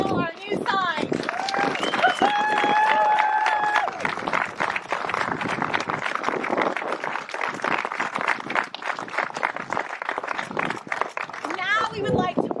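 A crowd applauds at a sign unveiling during a wellness center ribbon cutting, with many hands clapping continuously amid cheering and excited voices.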